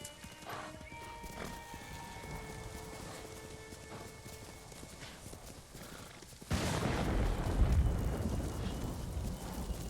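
In the video game Ghost of Tsushima, a thunderstorm rolls in. Quiet ambience with soft hoof clops gives way to a sudden, loud, sustained rumble of thunder and heavy rain that lasts to the end.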